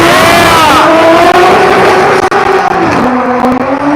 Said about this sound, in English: Again, we've got Alexis Harris, 2JZ, 800 horsepower. Let's see.